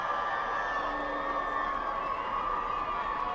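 A big crowd cheers and shouts steadily from the stands as the Littleton Tigers take the field before a Division 6 Super Bowl high school football game against Cohasset, a continuous distant roar with no break.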